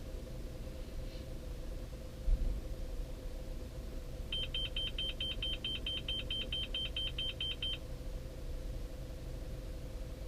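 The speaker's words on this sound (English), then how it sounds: "That was the tractor beeping." A rapid series of high electronic beeps from a tractor repeats steadily for a few seconds over a constant low engine hum during ECU reading, with no talking.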